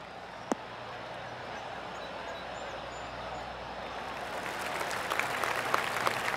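Spectators at a golf round, the Skip Jack Open, applaud after a drive, a distant patter of clapping that swells slightly toward the end over faint outdoor ambience.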